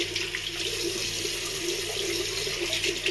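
Tap water runs steadily into a sink, rinsing off after a shave, a continuous close splashing hiss that holds at even loudness throughout with no talk over it.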